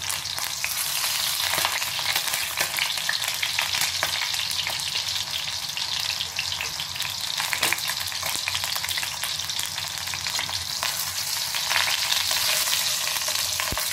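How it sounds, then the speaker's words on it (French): A leg of lamb browning in a pan, sizzling loudly and continuously at close range with constant crackle and spitting fat, and occasional faint clicks of handling. "c'est vraiment meilleur quand ça a bien rissolé le gigot"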